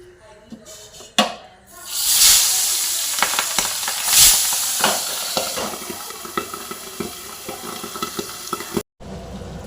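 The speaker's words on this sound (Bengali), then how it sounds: "আর প্রচণ্ড ফাটছে মাছগুলো, একদম টাটকা" Fresh pabda fish fries in hot oil, loud crackling and spattering bursting near and hard, with a steady sizzle underneath and sharp pops, then a sudden cut near the end.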